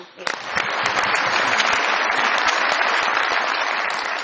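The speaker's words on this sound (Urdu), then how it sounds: "وہ سب بہت ساری تالیاں ان کے لیے" A studio audience at a Pakistani comedy talk show bursts into loud applause, swelling within the first half second into a thick, sustained roar of clapping that stays strong to the end.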